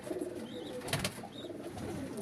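A golden pigeon coos softly and close, with a couple of brief low murmuring calls and a short flutter-like burst in the middle.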